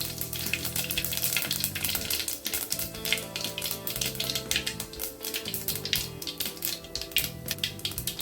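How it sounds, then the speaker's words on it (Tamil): Mustard seeds and fennel seeds frying in hot oil in a kadai, the first step of a country crab gravy. A close, steady crackling sizzle with dense popping runs throughout, and no voices. "கடுகு நல்லா பொரிஞ்ச பிறகு சோம்பு போட்டுக்கணும்."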